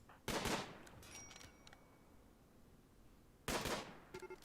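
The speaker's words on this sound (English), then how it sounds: "Oh, you're shooting the turret." Gunfire aimed at a defensive turret in the colony game Rimworld, heard as two loud bursts of rapid shots separated by a quieter stretch, the second burst trailing into a few sharp pops.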